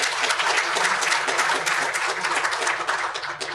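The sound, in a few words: applause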